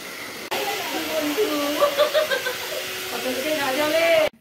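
A hair dryer blows a steady airy roar while drying freshly washed hair before coloring, close and continuous for a few seconds, with a voice talking and chuckling over it.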